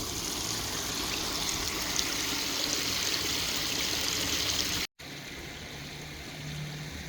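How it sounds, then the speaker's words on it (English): Cold spring water flowing out of a cave at Cave Spring, Georgia, a steady close rushing and trickling stream that runs without a break and continues after a short cut. "And there's where the water comes out."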